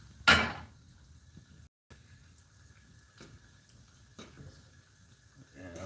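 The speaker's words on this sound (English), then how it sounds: "Yeah, these can take the time and fry." Jamaican festival dumplings fry in hot oil, a faint, steady low sizzle with a few sharp clicks and clatters, one louder knock near the start.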